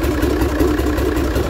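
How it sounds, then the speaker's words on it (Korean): A Yamaha outboard engine on a boat recovered from flooding idles smoothly and steadily up close, a low, even rumble with a regular pulsing rhythm. "근데 엔진은 부드럽게 돌고 있습니다"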